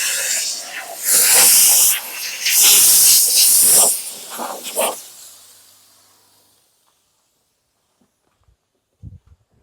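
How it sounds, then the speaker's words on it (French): A steam generator sends out a jet of dry steam as a loud, close hiss with a few surging pulses. It fades away after about five seconds into near silence, with a couple of faint knocks at the end. "Vapeur sèche."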